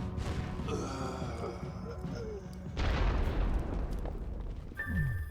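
Explosions in Secret World Legends as grenades and supply crates blow up, a sustained rumbling blast near the start and a louder burst around the middle, with game effects and a rising tone at the end, heard under speech.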